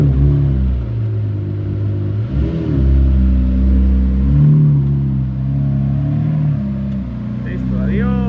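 A Lamborghini Murciélago engine revs as the car drives off, a deep, loud, continuous rumble that rises and falls, with voices talking over it.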